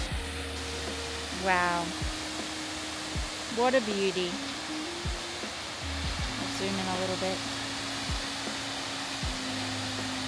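Steady broadband rush of Morans Falls seen from the first lookout on a bush hike, a constant roar filling the whole clip while a person speaks briefly over it.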